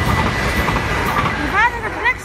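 A train passes nearby in Echt, Netherlands, its steady rumble and rail noise running throughout, with brief wheel squeals near the end and voices faintly mixed in.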